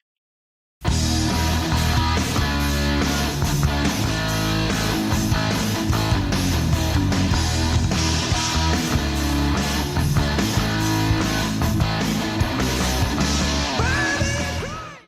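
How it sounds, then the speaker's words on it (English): A loud, dense glam metal guitar riff played from a cassette, with full band backing, plays continuously for several seconds, slightly rough and compressed, then trails off at the end. "And I'm going to play that riff for you now."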